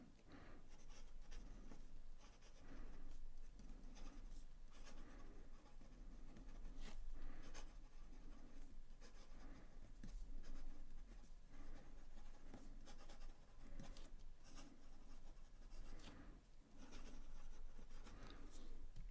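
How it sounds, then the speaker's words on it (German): Continuous scratchy scraping of a LAMY Lx fountain pen nib gliding across paper, steady and close, with small strokes and taps throughout and no talking. "wie der Füllfederhalter hier übers Papier gleitet"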